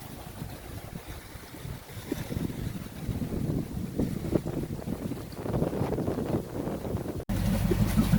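A sailboat under sail on Long Island Sound, head sail losing the wind: steady wind rush and buffeting against the microphone with water wash along the hull, continuous and fairly loud.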